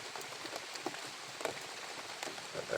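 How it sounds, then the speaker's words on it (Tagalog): Rain patters steadily onto a surface nearby, a dense even hiss broken by small drops that tap a little louder, with no voices over it. "So ito po, umuulan na."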